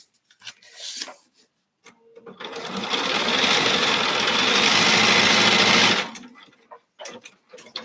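A domestic sewing machine stitches quilt pieces in one steady, loud, close run lasting a few seconds, with brief handling clicks and rustles of fabric before and after.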